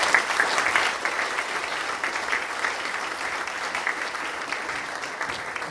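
Town audience at a mayoral candidates' forum claps for the candidates, an even, sustained patter of many hands at moderate distance with no break.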